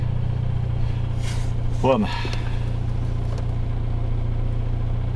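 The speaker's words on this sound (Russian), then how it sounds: "Слышно, как подушка вибрацию на кузов дает, даже на прогретом двигателе." A warm 2007 Toyota Avensis 2.0 engine idles with a steady low hum and constant droning vibration transmitted through an engine mount to the body; someone briefly speaks once partway through.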